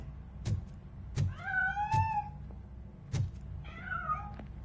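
A cat meows twice in a RoboCop video game, each call a rising-then-falling wail standing clearly above a background of repeated dull thumps and low game ambience, with no talk.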